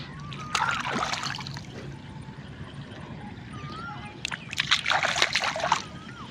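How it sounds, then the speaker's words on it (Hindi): Feet are washed in water out in a field, making two bursts of sloshing and splashing, with quieter trickling between them and some talk in the background. "चलो हम इधर पैर भी धो लेते हैं।"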